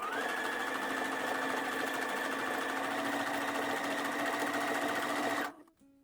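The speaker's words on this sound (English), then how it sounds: "put our machine on a longer stitch and do an easing stitch around the edge of the pocket" A sewing machine set to a longer stitch runs an easing stitch around the curved edge of a patch pocket, a steady close whirring hum for about five seconds before stopping abruptly.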